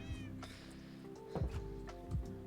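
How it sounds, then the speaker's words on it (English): A cat meows several times at close range, drawn-out cries with clear rising and falling pitch, separated by brief pauses and small handling thumps, and nobody talks over it. "Aw, kitties. Hi, kitty."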